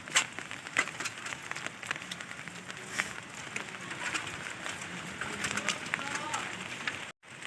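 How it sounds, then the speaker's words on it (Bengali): Heavy monsoon rain falls over a village, a steady soft hiss with scattered patters and crackles, fairly faint, with indistinct voices murmuring in the background. "কেন না বৃষ্টিটা প্রচুর হচ্ছে"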